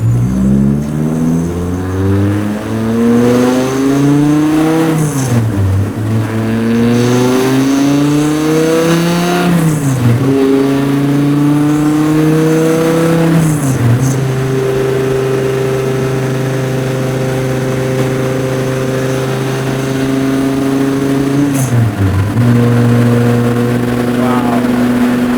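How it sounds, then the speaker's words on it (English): An 800-horsepower 9.0-litre V10 Plymouth hot rod accelerates hard through several gears, its loud, close engine rising in pitch with each pull and dropping at each shift. "I can't believe I'm driving this freaking car right now"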